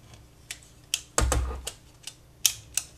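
A tape feeder mechanism clicks open when pressed: a series of sharp plastic clicks and taps, one louder thunk with a brief rumble, close and isolated.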